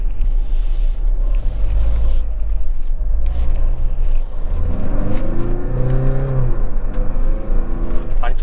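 A 2024 Tata Harrier's engine revs under acceleration, a steady loud rumble that climbs in pitch through the second half, heard continuously from inside the moving SUV.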